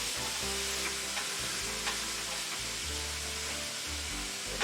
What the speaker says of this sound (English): The pan is hot. Get this ground beef in here.